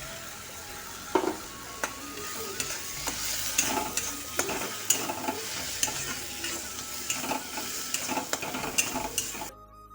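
Tomato pieces sizzle and fry in a pan for a Bengali home-cooked dish, with a spoon scraping and stirring at a steady, uneven rhythm close by and no talking.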